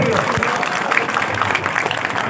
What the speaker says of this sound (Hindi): एक बार जोरदार तालियां हो जानी चाहिए।